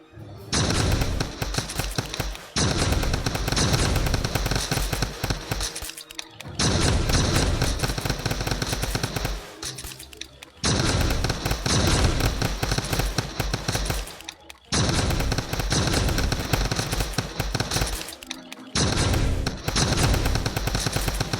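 Dense, loud bursts of rapid gunfire from the Roblox game Bizblox, coming in several long sustained volleys separated by brief pauses, with no talking over them.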